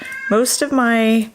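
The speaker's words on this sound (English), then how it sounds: "if you hear them meowing in the background, that's my cat" A pet cat meows loudly and close by in a couple of drawn-out, pitch-bending calls, with someone speaking briefly alongside.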